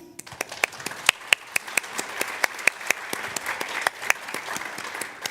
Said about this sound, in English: So big applause for Sally.